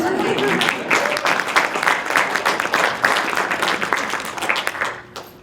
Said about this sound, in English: I think we ought to give her a round of applause